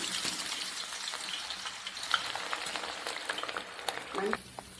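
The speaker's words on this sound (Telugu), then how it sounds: "ఇప్పుడు మనం కోసి పెట్టుకున్న ఉల్లిగడ్డలు ఉన్నాయి కదా, ఇవి ఫ్రై చేసుకున్నాం." Chopped onions frying in hot oil for a vegetable dum biryani, a continuous close hiss of sizzling with scattered crackles and a brief bubbling surge near the end.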